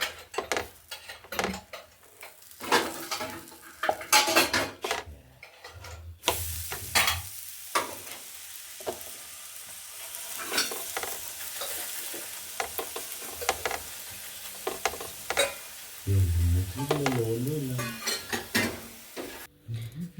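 A cabbage paratha frying with butter in a pan, with steady sizzling broken by repeated scraping and clinks of a spatula against the pan.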